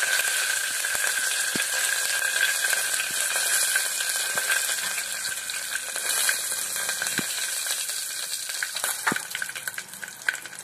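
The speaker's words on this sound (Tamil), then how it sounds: "கடுகு இப்போ வெடிக்கட்டும்." Mustard seeds crackle and pop in sizzling oil, a dense crackling hiss with scattered sharper pops close by and no talking.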